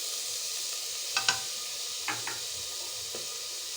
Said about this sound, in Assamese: আৰু এতিয়া ইয়াতে মই পিঁয়াজ ঢালি দিম